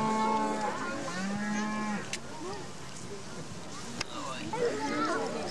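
A cow at the Royal Manx Agricultural Show on the Isle of Man in 1998 gives a long, low moo followed by softer lowing, heard moderately close amid crowd murmur and people talking nearby.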